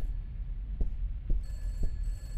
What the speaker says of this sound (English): I guess I'm going back to answer that phone.